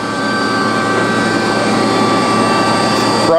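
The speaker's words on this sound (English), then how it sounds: "This is the hydraulic system" The hydraulic system of a DoAll C5A automatic horizontal band saw runs with a loud, steady mechanical hum and a constant whine, close and unbroken.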